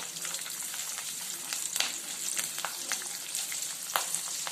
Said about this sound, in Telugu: dry dry biryani masala plus పచ్చిమిర్చి కాజులు అన్నీ వేసేసాను అన్నీ ఒక టూ మినిట్స్ ఫ్రై చేసుకున్నాం